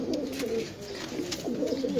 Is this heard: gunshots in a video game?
no